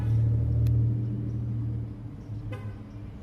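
Outdoor road traffic with a car horn toot near the start, a low rumble of passing vehicles that swells and fades, and a second brief horn-like burst later, heard fairly close with no talking.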